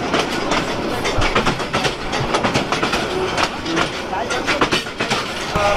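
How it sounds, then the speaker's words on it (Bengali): The Tista Express, in its rearmost Shovon chair coach on the Bangladesh Mymensingh–Jamalpur line, rolls with a loud, rhythmic clickety-clack of wheels over rail joints and a constant roar, with voices mixed in. "আমরা হচ্ছে এখন তিস্তা এক্সপ্রেস ট্রেনের একদম লাস্ট বগিতে আছি, যেটা শোভন চেয়ার"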